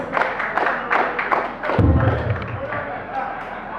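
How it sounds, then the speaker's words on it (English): Cheering and clapping from a crowd at a Young Lawyers Forum cultural fiesta and New Yam Festival, with uneven thumps and bursts close by and a loud heavy thud partway through, over a busy room. "Please, a round of applause for ourselves."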